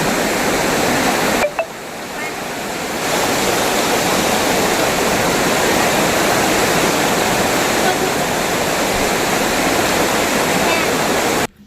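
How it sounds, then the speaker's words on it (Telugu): Water rushes steadily beside a temple at Ahobilam, a loud, continuous waterfall-like roar that holds evenly throughout with only a brief dip near the start. "చాలా బాగా అనిపిస్తుంది ఆ వాటర్ శబ్దం అనేది"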